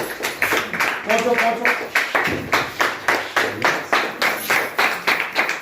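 An audience applauds at a felicitation ceremony during a business seminar, with rhythmic group clapping in regular beats close by and loud, and a voice speaking briefly near the start.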